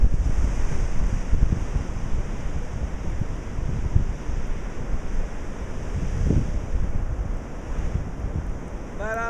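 Sea waves pound the Lynn Shore Drive waterfront in Lynn, Massachusetts during the 2015 blizzard, with steady roaring surf and buffeting wind noise on the microphone throughout, loud and continuous.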